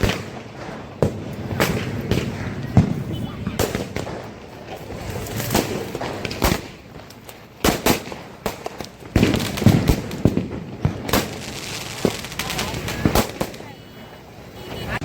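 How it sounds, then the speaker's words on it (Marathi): Diwali firecrackers bursting in rapid, irregular succession, loud sharp cracks and booms with crackling strings going off nearby, with occasional voices among friends. "वन साइड फटाके वाजत आहे."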